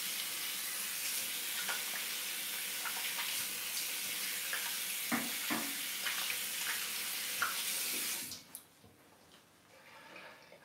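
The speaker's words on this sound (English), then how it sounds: "And just rinse off my hands here." Tap water running steadily over hands in a sink while rinsing off shaving lather, a close hiss and splash that stops abruptly near the end, followed by a few faint drips.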